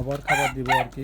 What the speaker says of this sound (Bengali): নিচের মোরগটা কিন্তু ডাকতেছে আর কি